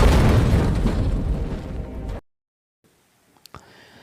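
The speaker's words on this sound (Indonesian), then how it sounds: "mobil yang dikendarai Steve langsung meledak" A car explosion from the film The Mechanic: one loud, sustained roaring blast that rumbles for about two seconds, then cuts off sharply into near silence with a few faint clicks and small sounds.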